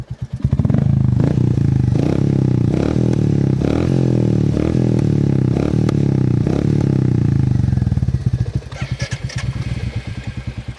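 Royal Enfield Meteor 350 motorcycle fitted with a KP Racing exhaust, revved hard up close in a loud, sustained roar with repeated throttle blips, then dropping back to a popping, thumping idle.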